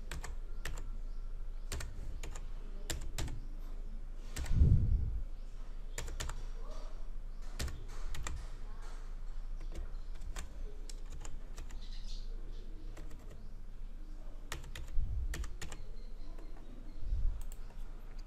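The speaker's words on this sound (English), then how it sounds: "So we'll type the FTP address." Computer keyboard typing as an FTP address, username and password are entered on a Linux computer, with irregular bursts of close, crisp key clicks and a few heavier thumps, with no talking.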